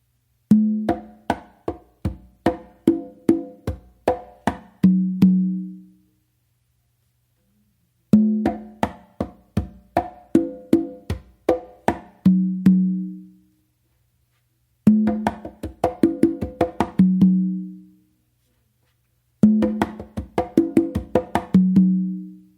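Congas play a tumbao pattern of quick slaps and ringing open tones, four phrases separated by short pauses, close and clear.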